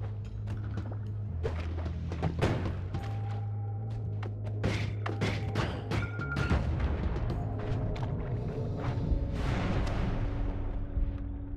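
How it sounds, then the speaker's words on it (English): Explosions in the video game Noita boom and thud repeatedly, with sharp impacts and rumbling blasts scattered over steady background tones and effects. "We seem to be making bigger explosions."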